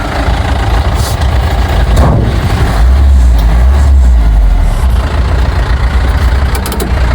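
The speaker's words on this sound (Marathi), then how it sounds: "फायनली भावानं गाडी चालू झालेली आहे यांची." A car engine idles after finally starting, giving a loud, steady low rumble with a slight swell in the middle. No talking can be heard.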